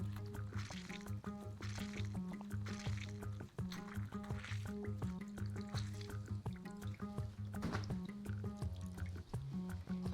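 Juice from a whole fresh lemon squeezed into a pot while cooking lemon rice, soft wet dripping and squishing under kitchen background noise, quiet and close.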